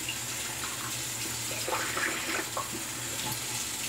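Tap water running steadily into a sink to rinse a razor blade, a continuous close hiss with slight splashing changes midway as the blade passes under the stream.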